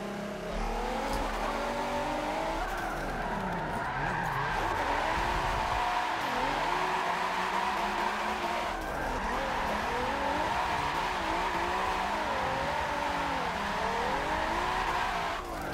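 A race car in a racing video game on the Long Beach circuit, driven with a Fanatec wheel, drifts at wide angle with a loud, continuous engine roar, rising and falling revs and long tire squeals throughout.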